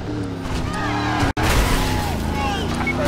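A car accelerates hard in the video game Driver: San Francisco, its engine roaring continuously under game speech, with a brief cut in the sound partway through.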